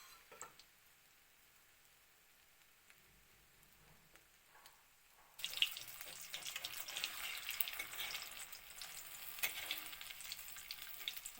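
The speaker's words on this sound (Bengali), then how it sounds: "ভালো করে এই পিঠ ওই পিঠ ভালো করে ভাজতে লাগবো" Soybean fritters frying in hot oil: a quiet stretch gives way to a loud, steady, dense sizzle that carries on to the end, with a few faint clinks along the way.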